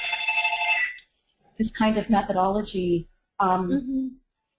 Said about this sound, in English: I'm sorry, I'm being interrupted here by a phone.